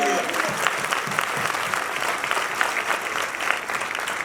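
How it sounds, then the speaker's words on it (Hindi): Audience applause at a graduation ceremony, a dense and steady wash of many hands clapping together that holds evenly through the whole stretch. "खुश है तो तालियां बजाइए इसके लिए।"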